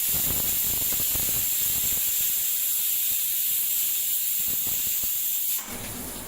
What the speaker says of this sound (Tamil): விசில் வந்துருச்சு, அதை ஆஃப் பண்ணிடுவோம்.